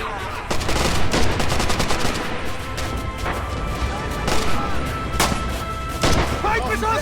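Bursts of gunfire in the World War II game Red Orchestra 2, with dense rapid automatic fire and scattered heavier shots and crashes sounding loud and continuous, while someone talks over them.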